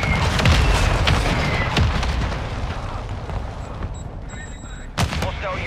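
An artillery fire mission strike in Call of Duty: Modern Warfare II, with heavy booms and rumbling blasts rolling through, then a sharp crack near the end, while a voice speaks over the barrage.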